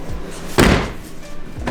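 A Mazda Miata NC door swings shut with one solid, close thud about halfway through, followed by faint room noise.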